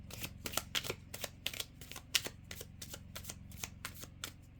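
Cards from an affirmation deck being shuffled by hand, a quiet rhythmic series of crisp riffling flutters repeating steadily, close and alone.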